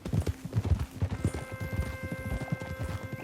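Horse hooves clip-clop in Red Dead Redemption 2, a close, rhythmic trot of repeated hoof strikes with a faint whinny and no talk.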